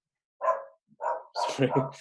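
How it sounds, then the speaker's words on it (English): An excited dog gives a few short barks and yips in quick succession, fairly loud and close, alone against silence. "my dog is excited about something"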